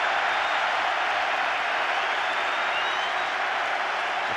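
A capacity crowd of 72,500 at the Millennium Stadium before a Wales v Samoa rugby World Cup match gives a steady, dense roar of applause and cheering that fills the whole stretch without a break.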